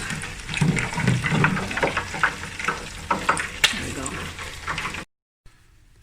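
Chicken wings frying in butter in a hot pot give a steady, busy sizzle with crackles and stirring noises close up, then the sound cuts out briefly near the end.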